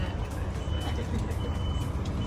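Santorini local bus idling and rumbling steadily with a low engine drone, a reversing beeper chirping faintly over the continuous vehicle noise.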